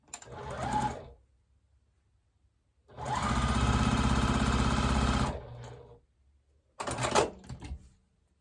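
Sewing machine stitching quilt pieces together in three close bursts: a short run, a longer steady whirring run of about two seconds, then a final brief burst, with silent gaps between.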